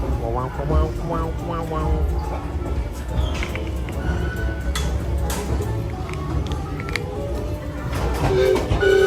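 A Disney World theme park train ride rumbles steadily with mechanical clatter and brief tonal squeals, under ongoing announcements and crowd chatter.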